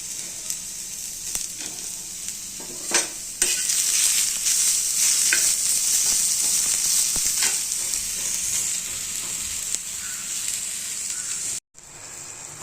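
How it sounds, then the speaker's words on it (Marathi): Garlic cloves and onion fry in hot oil, a steady, close sizzle that swells louder after a few seconds with occasional stirring scrapes, then cuts out briefly near the end before resuming. "लसूणाची पाकळी आणि कांदा चांगला भाजून घ्यायचा ब्राऊन कलर येईपर्यंत."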